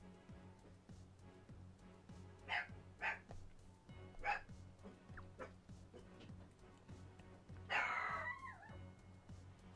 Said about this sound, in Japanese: 引きが悪すぎて犬も泣いてるわ。